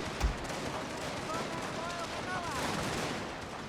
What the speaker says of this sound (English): It's a matchlock tower, and it's shooting at some retreating troops at the gate.